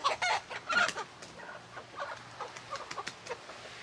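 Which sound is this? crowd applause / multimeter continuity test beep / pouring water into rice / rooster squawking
rooster squawking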